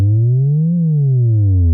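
A Moog synthesizer bass tone, a deep sustained note whose pitch is bent by a slow sine-wave modulation, gliding up then back down once, loud and alone.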